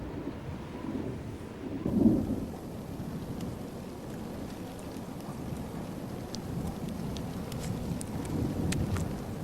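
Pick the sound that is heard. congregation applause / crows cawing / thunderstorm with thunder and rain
thunderstorm with thunder and rain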